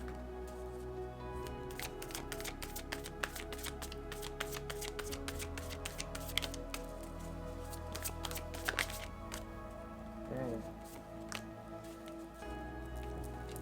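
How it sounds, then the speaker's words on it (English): Tarot cards shuffled and drawn up close, a dense, rapid riffling patter with soft flicks and slides, fairly quiet and without talk. "I am taking 4 cards, just so that you know."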